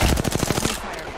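A rapid burst of automatic gunshots in the battle royale shooter Apex Legends, loud and close, fading into a short tail with no talking over it.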